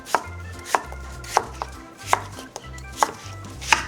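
A knife chops half a pear finely on a cutting board for a galbi-jjim marinade, seven or eight crisp, evenly spaced close-up strokes with no talking.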